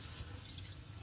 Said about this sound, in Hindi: अब देख रहे हैं कि पानी फुल खौल रहा है